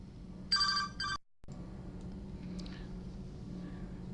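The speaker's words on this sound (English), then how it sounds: "I keep forgetting to turn off the damn phone" In Mass Effect 3 gameplay, a telephone rings in two short bursts of electronic trilling. A quiet game ambience with a low hum runs underneath and continues after the ringing stops.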